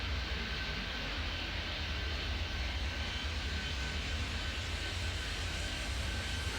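Airplane engine noise in the Airport Madness 3D airport control game, a steady, even whooshing drone that fills the scene without a break.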